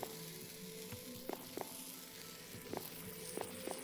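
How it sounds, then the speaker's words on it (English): Steady sizzling of raw rabbit frying in a pan in a video game, with small pops and crackles scattered throughout, heard close and alone. "let us simply take some raw rabbit, toss some in a frying pan, some in a skillet as well."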